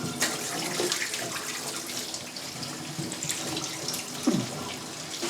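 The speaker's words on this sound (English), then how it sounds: "Now you must wash endive really well because it is quite a dirty plant" Endive leaves being washed under a steadily running kitchen tap, water splashing continuously into the sink with a few louder splashes and rustles as the leaves are handled, no talk.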